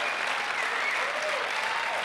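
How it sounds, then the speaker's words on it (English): An audience applauds Montbello High School graduates, steady dense clapping filling the room at an even level throughout. "I would love for you all to clap for them, please"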